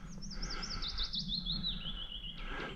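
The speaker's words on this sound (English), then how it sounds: "Lovely bird song." Bird song in woodland during a hike: a bright, warbling phrase of rapid rising and falling notes runs continuously for nearly three seconds, clear and fairly close over a low outdoor rumble, with a second call starting near the end.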